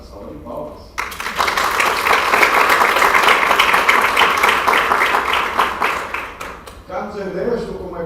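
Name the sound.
audience applause at book launch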